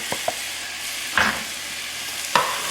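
Sweet potato taco ingredients get stirred in a pot: a few sharp spoon clacks and scrapes, spaced apart, over a faint low sizzle.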